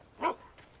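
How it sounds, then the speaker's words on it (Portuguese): A single dog bark rings out in the horror game Alan Wake Remastered, one short sharp burst standing alone, followed by a fainter trailing sound. "Que susto, cachorro."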